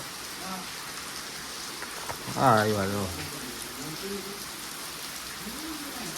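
Steady heavy rain pours down in Nilakha, Gujarat, a dense constant hiss throughout, while a voice speaks briefly in the middle and a few other voices murmur faintly.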